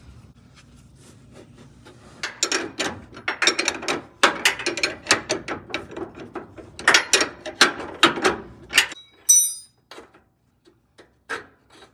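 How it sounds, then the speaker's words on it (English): An open-end wrench works a nut loose on a Ford F-150 sway bar, giving a run of sharp metallic clicks and scraping ratchet-like bursts, close and clear, then a few sparse taps trailing off. "I'm gonna go ahead and just use an open end wrench to get this nut off."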